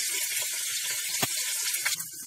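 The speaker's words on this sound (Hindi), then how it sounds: "जीरा तड़क गया, अब मीट पीसेस डालना है इसमें।" Mutton pieces hit hot oil with crackling cumin in a pan for a Rajasthani wild mutton curry, a loud continuous hiss and sizzle with a few pops, close up and without talking.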